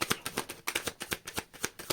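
Tarot cards are shuffled close by in quick, rhythmic riffles, about a dozen soft papery bursts in under two seconds, with no talking.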